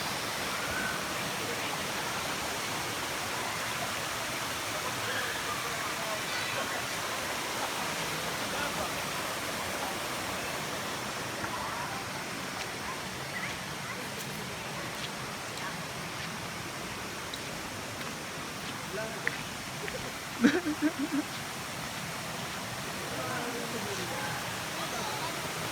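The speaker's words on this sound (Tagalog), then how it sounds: "Dito tayo ngayon sa Concept Falls." Consocep Falls in Tigaon, Camarines Sur, pours in a steady, full roar of falling water that fills the scene without letup, with a few faint knocks near the end.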